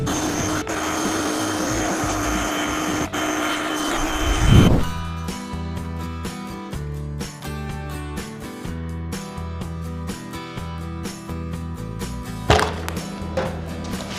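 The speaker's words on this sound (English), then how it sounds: "I do need to power wash this thing" A pressure washer hisses and sprays steadily while cleaning grass and mud off a Honda CRF110 dirt bike motor, with a loud, continuous jet and a few sharp knocks.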